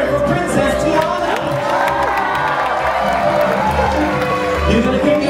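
A packed crowd on the Disney Dream cruise ship cheers, claps and shouts for Princess Tiana, with children's high voices and whoops rising above sustained, loud applause.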